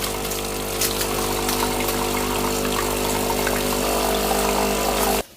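A DeLonghi Magnifica Plus coffee machine runs its rinsing cycle, a loud steady pump hum with water flow that continues evenly and then cuts off abruptly at the end.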